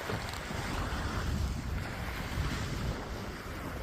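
Wind gusting over the open sea with waves washing against a boat, a steady broadband rush and low rumble close to the microphone, with no talking.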